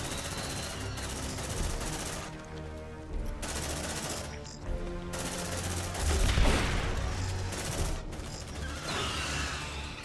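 Sentry turret gunfire in the sci-fi video game Aliens: Dark Descent: sustained bursts of mechanical automatic fire and clattering, fairly loud and steady throughout, briefly dropping off between volleys.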